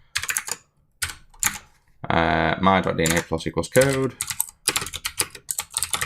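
Rapid clicking on a computer keyboard while writing JavaScript code, in quick bursts with short pauses, close up, as someone talks between and over the keystrokes.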